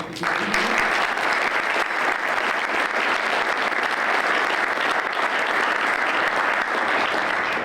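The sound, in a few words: audience applause at Rotary Club meeting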